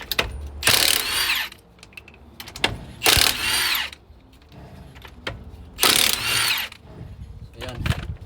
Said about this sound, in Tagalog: itong impact wrench natin, okay, para madali